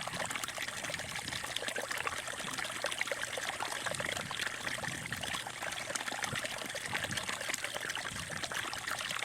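A small brook in the desert trickles and babbles steadily nearby. The water keeps up an even, continuous gurgle with no pauses throughout.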